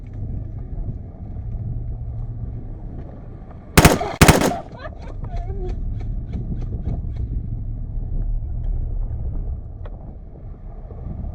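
Airsoft guns fire during an outdoor game: a sharp close burst of shots, then a faster string of lighter rapid pops, all over steady wind rumble across the microphone.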